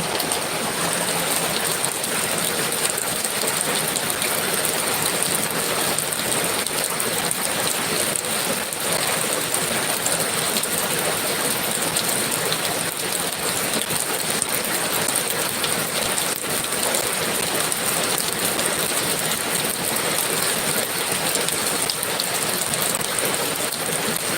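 Heavy rain falls without pause, a dense, even hiss of drops drumming on surfaces all around, loud and unbroken.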